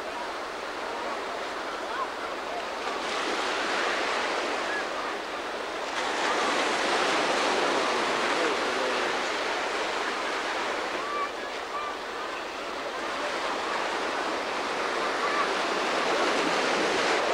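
Ocean waves break continuously on a beach at low tide, a broad hissing wash of surf that swells and recedes in slow surges, with some wind buffeting the microphone.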